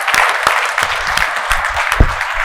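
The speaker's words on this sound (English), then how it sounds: "Again, another applause for T.O." Attendees at a mortgage business event clap for presenters, a short burst of fairly loud applause with distinct individual hand claps standing out within the wash.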